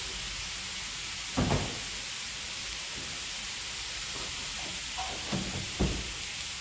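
Onions frying in butter in a pan give a steady, quiet sizzle under broad hiss, with a few soft clunks of a utensil against the pan.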